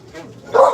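A dog gives a single loud bark near the end, preceded by fainter yips and household noise, close by in a home.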